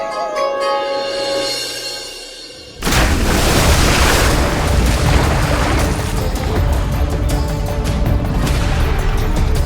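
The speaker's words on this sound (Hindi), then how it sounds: "और एक धमाका" A sudden loud explosion bursts in after a quieter musical stretch, a heavy booming blast followed by a long rumbling roar and crackling debris that keeps going to the end.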